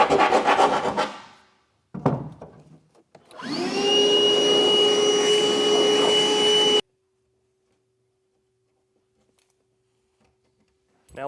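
Loud steady whirring drill runs for a few seconds, drilling holes during a fifth wheel hitch install on a 2025 Ram 2500, preceded by clattering knocks and followed by silence with a faint lingering hum.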